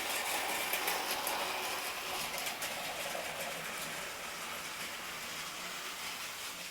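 A motorized Trackmaster toy train engine runs a lap of its track, a quiet, continuous whirring hum with a faint rattle, heard alone with no voices.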